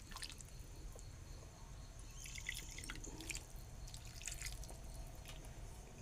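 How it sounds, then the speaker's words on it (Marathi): Cooking water from boiled rajma (kidney beans) is poured into a pot, giving a quiet, steady trickle with scattered drips and splashes. "आणि आता हे जे शिजवलेलं पाणी आहे ते पण मी त्याच्यामध्ये ॲड करणार आहे"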